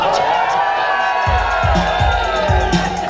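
A concert crowd at a DJ show cheers and whoops in a loud, sustained roar, with sharp rhythmic scratch-like hits and beats cutting in partway through.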